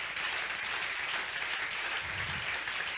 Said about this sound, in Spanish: Fuerte ese aplauso si él se lo merece.